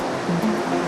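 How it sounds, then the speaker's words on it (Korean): Big surf over 2 m high crashes onto a fishing-harbour shoreline after a typhoon warning, a steady broadband roar of breaking water heard briefly and continuously with no voices. "2m가 넘는 높은 파도가 해안가를 덮치는데요."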